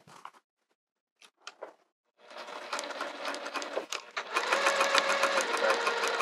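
Sewing machine stitching back over the edge of a cork wrist pouch, starting with a few short isolated bursts, then settling into a steady, loud, close whirring run that grows busier toward the end.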